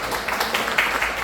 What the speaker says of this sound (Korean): 손유광 의장님 박수 한번 보내주시죠